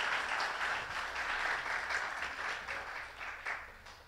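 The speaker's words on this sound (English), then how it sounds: "Can clap to that." Church congregation applauds during a sermon, a steady wash of many hands clapping that holds for several seconds and gradually thins out.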